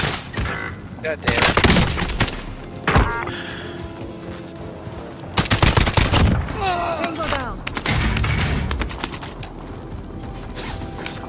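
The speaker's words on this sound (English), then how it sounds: "Receiving hostile fire." Gunfire in Call of Duty: Warzone, a Verdansk '84 duos match: several loud bursts of shots and clattering weapon sounds come in clusters over game ambience, with a player's voice cursing over it.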